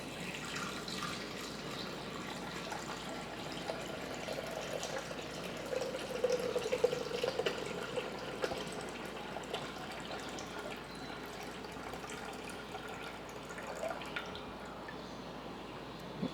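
Water pours steadily into a Thermomix jug sitting on a scale, a soft, continuous splashing fill that stays fairly faint and even throughout.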